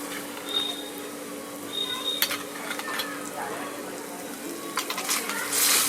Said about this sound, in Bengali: আদাটাকে সামান্য ভেজে নেবো